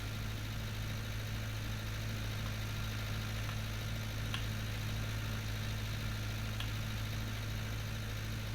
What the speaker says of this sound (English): So I'm quite pleased actually how this tractor's handling this little baler.